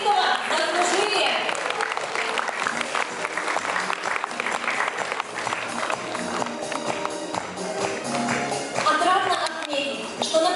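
A crowd in a hall applauds loudly and continuously at a school jubilee celebration, with steady clapping and some crowd noise filling the whole stretch.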